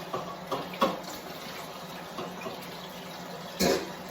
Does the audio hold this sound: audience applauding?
no